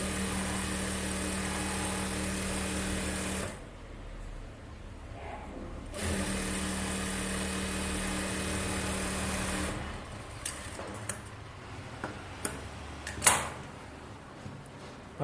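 Sewing machine edge-stitching a blouse lining, a steady close mechanical whir running for a few seconds, pausing, then running again, followed by scattered clicks and handling knocks.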